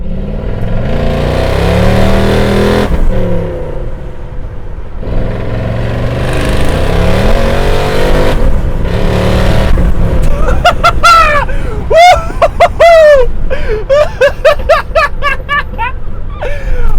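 A UAZ car engine revs hard and accelerates up through several gears, the pitch climbing and dropping repeatedly, loud and close.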